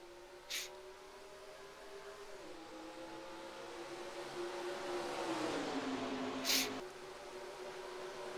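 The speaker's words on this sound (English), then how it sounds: "We come down to take the green flag. There it is. We're racing at the Chicagoland Speedway." Stock cars race in NASCAR Racing 2003 at Chicagoland Speedway, a steady layered engine drone rising and falling in pitch, with two brief bright bursts of noise breaking over it.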